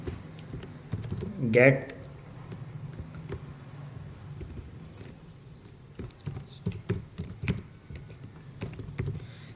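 Computer keyboard keys clatter in quick bursts of close clicks while someone types code for an ASP.NET MVC project, with someone talking over the typing throughout.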